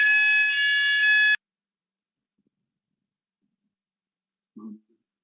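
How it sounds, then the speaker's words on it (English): An office fire alarm sounds during a Tuesday morning test, a loud steady electronic tone lasting just over a second before cutting off, followed by silence and a brief faint low thud. "Oh, there's a fire alarm."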